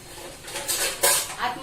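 Close metallic clinks and a light scrape as a metal stand is set down inside an idli cooker pot holding water, with a voice talking softly nearby.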